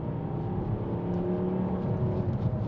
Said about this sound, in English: that's what I was talking about, the engine sound in the 5-cylinder.